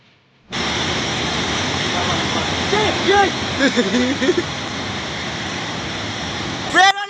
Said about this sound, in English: High waves crash over a beach edge, nearly pulling a man into the sea.